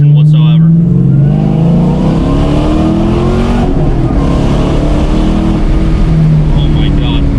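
A supercharged Dodge Challenger R/T making over 500 wheel horsepower revs hard as it accelerates, its loud engine note climbing and shifting steadily, with a voice talking over it at the start.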